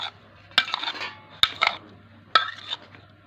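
Green chilli and tomato stirred and mixed in a bowl, giving three sharp clinks of a spoon against the dish amid softer scraping, close and alone with no talk.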